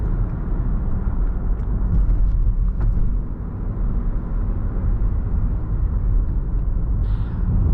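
A Lexus RX350 engine accelerates and kicks down, heard as a steady low rumble from inside the cabin with road noise, droning evenly for several seconds without distinct gear changes.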